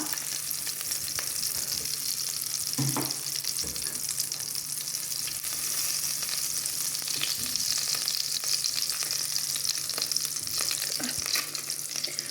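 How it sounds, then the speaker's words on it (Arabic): Chicken pieces fry in a mix of oil and margarine for an Algerian olive tagine, giving a continuous bright sizzle with a few faint clinks from stirring, close with no voices. "ونحطو الاطراف هذو تاع الدجاج باش يتحمروا شويه ويتقلاو مليح"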